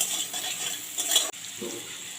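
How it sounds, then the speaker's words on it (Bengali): Potatoes frying in a pan with salt, turmeric and Kashmiri chilli, a steady close sizzle with soft stirring and a brief clink of utensils partway through. "ঢাকা দিয়ে দিয়ে ভালো করে রং ধরা তক আমি আলুটাকে ভেজে নেব"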